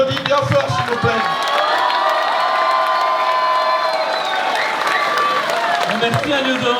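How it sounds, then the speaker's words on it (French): A crowd at an indoor gala event applauds and cheers loudly, with whoops and shouts over steady clapping, framed by someone speaking through a microphone at the start and end. "on l'applaudit bien fort s'il vous plaît."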